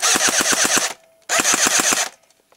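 A battery-powered airsoft gun on a weakly charged battery fires two rapid full-auto bursts of about seven shots each, loud and close, with a short pause between and a faint motor whine after each.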